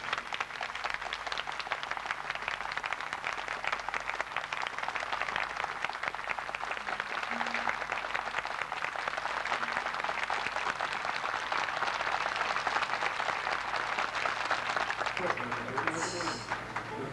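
An audience at a spiritual gathering for a marriage anniversary ceremony claps in loud, sustained applause that fills the room for the whole stretch, with voices mixed in.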